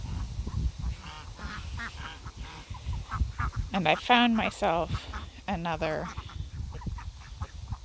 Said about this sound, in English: they're very big white ducks as compared to, like, for instance, these kind of middle-sized black ducks